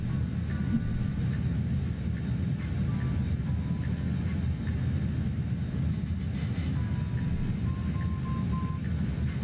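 Steady, loud drone of BAe146 jet engines in Microsoft Flight Simulator 2020, a continuous broadband roar with faint tonal whine running unbroken throughout, no voices over it.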